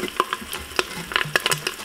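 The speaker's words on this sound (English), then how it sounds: "Give it just a quick stir." A spoon stirring tomato paste and shallots sizzling in an Instant Pot while cooking conch stew, giving quick scraping strokes and soft crackling frying sounds in short irregular bursts, close and moderately quiet.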